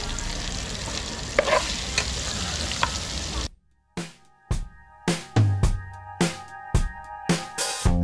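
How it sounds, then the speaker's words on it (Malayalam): Sausages frying on a gas stove at a family terrace barbecue: a dense, steady close-up sizzle fills the first half, then cuts off into a run of sharp knocks and clatter with faint ringing tones between them. "ഇനി നമ്മൾ സോസേജ് എടുത്ത് തിരിച്ച് ഈ ഗ്യാസ് സ്റ്റൗവിലോട്ട് വെച്ചേക്ക് കുറച്ചും കൂടെ ഒന്ന് പൊരിക്കാം."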